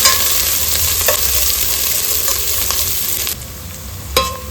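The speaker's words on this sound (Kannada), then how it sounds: "ಅದನ್ನು ಸೇರಿಸ್ಕೊಂಡು ಈರುಳ್ಳಿ ಕೆಂಪಾಗೋವರೆಗೂ ಫ್ರೈ ಮಾಡ್ಕೋಬೇಕು" Chopped onions frying in hot oil with mustard seeds for a fish curry, a steady loud sizzle with occasional scraping stirs, heard close and alone.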